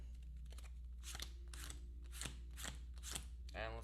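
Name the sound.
drawing cards from a deck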